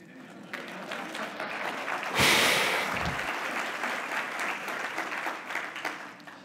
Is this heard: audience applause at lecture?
yes